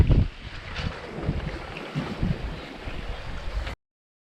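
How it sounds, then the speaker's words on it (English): Strong wind blows at sea around a small sailboat on the North Atlantic, a loud, continuous rushing roar with gusty buffeting that stops abruptly. "Well, the wind is freshened once again, and it's blowing from the east"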